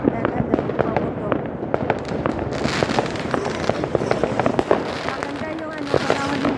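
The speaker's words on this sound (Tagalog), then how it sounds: "Naganda yung paputok." New Year 2025 fireworks and firecrackers explode in rapid, irregular bursts of sharp cracks and pops, some near and loud, others more distant, with people talking throughout.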